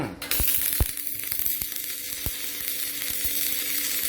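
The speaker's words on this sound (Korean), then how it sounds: "절단해서 이제 아크로 일반 전기 용접이죠" Steady crackling sizzle of arc welding with a 3.2 mm electrode at 120 amps, loud and continuous, with sharp pops scattered throughout.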